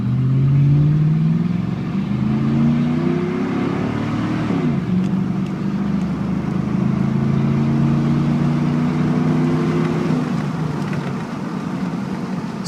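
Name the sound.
pickup truck engine revving, accelerating 0 to 60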